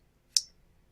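One crisp, close computer mouse click, a single short tick in otherwise quiet surroundings.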